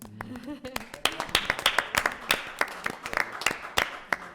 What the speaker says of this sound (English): Can we applaud him even if he's not here?